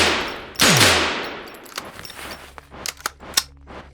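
A big gun fires in the pixel-art survival tactical RPG No Such Place: one loud, sharp blast with a ringing tail, followed by several quieter, quick shots and clanks near the end.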